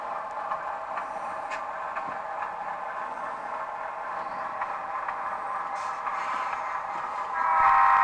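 A model railroad train rolls steadily into a small layout station, a continuous mid-pitched mechanical hum and faint clatter that swells slightly louder at the end.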